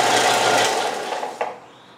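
A Harbor Freight 4-inch belt sander runs loudly with a steady abrasive whir, then winds down and fades after a brief clunk near the end.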